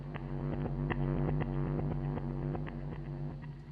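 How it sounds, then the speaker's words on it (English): Drum hits repeat in an uneven pattern, each trailing into echoes and a washy reverb tail over a steady droning tone; no voices. "you sent it to the delay and the reverb here, which sounds a bit like this"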